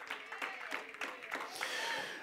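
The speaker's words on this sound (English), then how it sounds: "Give the Lord a hand clap of praise" A church congregation claps hands in praise, a loose, rhythmic patter of palms repeating across the room, with a sustained voice or crowd murmur carrying over the later part.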